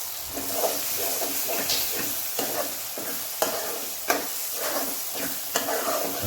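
A spoon stirs spicy egg curry masala frying in a pan, steady sizzling and hissing broken by periodic scraping strokes, close and continuous with no talk.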